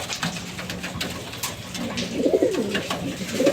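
Racing pigeons in a loft give a steady run of low, throaty coos, several birds overlapping close by with soft rustling beneath and no talking.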